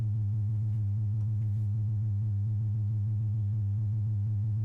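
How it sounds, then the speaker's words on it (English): A synthesizer's sine wave misbehaves, a loud continuous low hum wobbling and pulsing with buzzy harmonic overtones, steady and alone without talk. "the sine wave is doing some crazy things"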